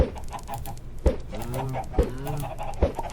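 Chickens cluck inside a coop in a video game, with a steady run of loud, close clucks and a few sharper calls repeating at an uneven rhythm, with no talking.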